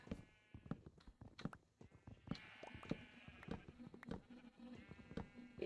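Sheep in the video game Minecraft bleat again and again, several overlapping calls with soft thumps and clicks of play between them, faint and without talk.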